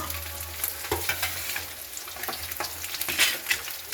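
An egg sizzling and frying in a pan, a steady soft crackle with occasional scraping stirs, no talking.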